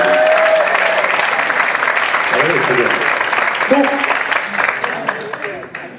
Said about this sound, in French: applaudissez pour le MC, quand même, Valérie